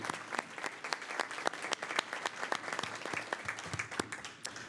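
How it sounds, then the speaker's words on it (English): Light applause from a small forum audience honoring a guest at an LGBTQ+ activism event, distinct individual claps crackling at close range without voices. "Please have a round of applause for Lynn Greer."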